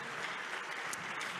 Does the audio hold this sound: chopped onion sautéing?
no